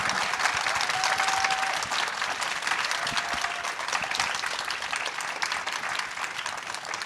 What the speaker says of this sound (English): please, a warm round of applause for our panelists.